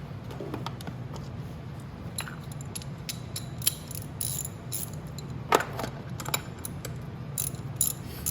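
Chain sprocket bolts on a Venom E-Madix 1300W electric ATV are tightened with a ratchet, giving quick clicking bursts and occasional metallic clanks, close up, with no talking.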